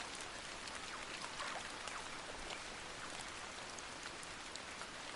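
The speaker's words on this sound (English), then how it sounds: "Raindrops are filling creek beds." Steady rain falling outdoors, a dense even hiss of raindrops spattering on surfaces with scattered brighter drips, constant and unbroken throughout.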